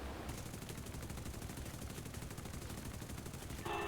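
Machine gun fire in a B-24 bomber video game: a fast, even, continuous rattle of rapid shots, moderately quiet, running through the whole stretch with no pauses.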